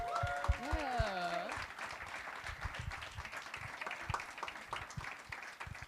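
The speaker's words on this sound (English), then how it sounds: "let's give Eugene another round of applause" An audience applauds at an evening community event. A voice cheers briefly at the start, then scattered, moderate clapping continues through the rest.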